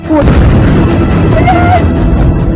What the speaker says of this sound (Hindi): तेल अवीव में इस ड्रोन ने अपने टारगेट पर बड़ा धमाका किया।